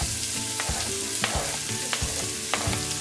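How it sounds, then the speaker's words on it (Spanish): Onion sizzles steadily in a pan for calabacitas con queso, with close frying crackle and several sharp stirring knocks spaced through, and no talk. "Igual la vamos a freír hasta que quede transparente, bien frita, frita, frita."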